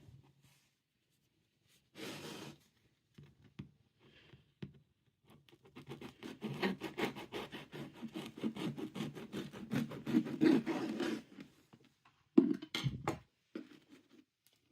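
A knife saws through a loaf of homemade air-fryer bread, starting with a few scattered scrapes and then settling into steady rasping strokes against the crust, close and fairly quiet.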